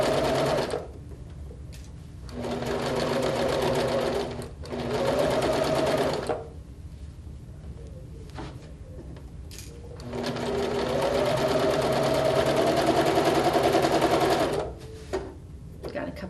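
A sewing machine stitches in three long, fast bursts separated by pauses, its motor whirring loud and close while a quilter works around a piece; quiet speech falls in the gaps.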